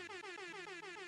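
Soundboard air horn effect blaring loud and close in one continuous 1-second blast, its steady stacked tones pulsing slightly, with no voices over it.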